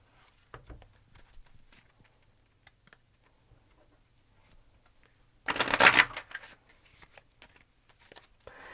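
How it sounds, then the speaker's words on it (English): Oracle cards being shuffled: a single short, dense riffle-like burst partway through, close and fairly loud, with only faint scattered ticks and handling noises before and after. "So let's start with some oracle cards here."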